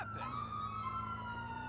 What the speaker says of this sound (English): I wish these guys would shut up the sirens.